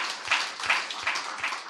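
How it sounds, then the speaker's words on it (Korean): A church congregation claps together in a steady, rhythmic beat of about four claps, evenly spaced and moderately close, with a diffuse roomy wash behind them. "우리 박수로 하나님께 영광 돌리겠습니다"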